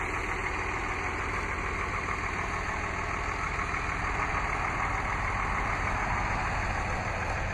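A 2007 Dodge Ram 3500 Laramie Quad Cab 4x4 pickup with a 6.7 liter Cummins turbo diesel inline-six idles steadily, a constant even drone that stays smooth throughout with no talk.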